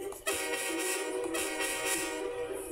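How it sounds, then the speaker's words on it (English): A passenger train locomotive whistle in the 3D Lionel TrainTown video game sounds a sustained, steady toot of about two and a half seconds with a slight swell partway through, playing alone. "Blow the locomotive's whistle to scare the deer off the track."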